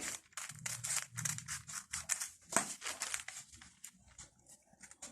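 Scissors snipping through striped fabric at the waist of a flared skirt, a quick run of crisp close cuts with irregular rhythm, some crinkling of cloth between snips, no voices.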